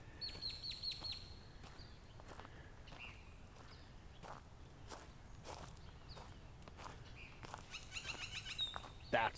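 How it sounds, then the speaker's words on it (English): A bird calls repeatedly with short, thin chirps from eucalyptus trees at a park pond in Scripps Ranch, San Diego, quiet and somewhat distant over crunching footsteps on a trail. "that's the one bird that keeps calling off in the eucalyptus trees"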